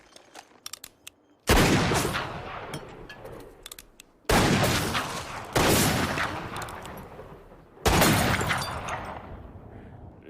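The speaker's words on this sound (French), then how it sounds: "J'ai entendu le coup de feu et j'ai senti la balle." Gunfire in a western film: a few sharp bursts of shots with long echoing decays, loud and close, several separated blasts over a quiet stretch.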